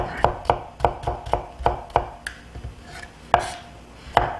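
A knife slices zucchini into 0.5 cm rings or half-moons on a cutting board, a series of crisp, close chops in a steady rhythm that slows and becomes sparse near the end, with no talking.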